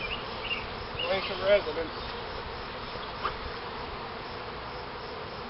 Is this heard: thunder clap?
no